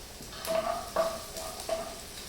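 Garlic sizzling in a hot pan with dried cranberries, a steady fry hiss broken by three short bursts of stirring and scraping, close and moderately loud with no talking.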